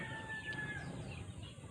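Gamefowl hens cluck and call softly in the background, with a faint crowing note early on amid low outdoor noise.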